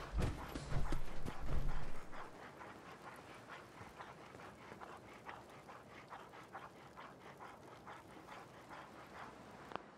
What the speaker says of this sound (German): Hört noch jemand diesen Hund?